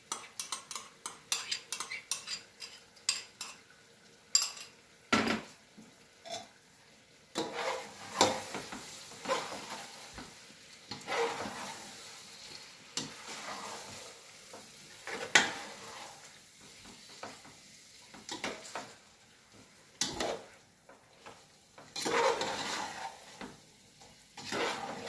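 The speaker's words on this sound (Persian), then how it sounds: "خود این مواد رو یک شور بدیم که سریع قاطی شنه" Meat and spices stirred in a pot for biryani, with repeated metallic scraping and clanking of a spoon against the pot over a light sizzle, in uneven close bursts.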